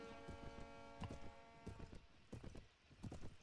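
Horse hooves clip-clop in a steady walking rhythm from a mounted character in Mount & Blade Warband, close and moderately loud over a layered game soundtrack, with no talk.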